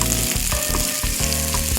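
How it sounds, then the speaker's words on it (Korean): Onion and carrot stir-frying in a hot pan, a steady loud sizzle broken by regular scraping strokes of a utensil stirring the vegetables, close up with no talk. "팬이 달궈지면 여기에 먼저 양파하고 당근을 넣어서 먼저 볶아주시는 거예요"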